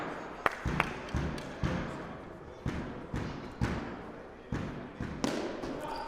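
A ball thuds repeatedly off the side wall of an indoor court during a Ball in Play game, a steady series of dull bounces about once a second with background crowd murmur.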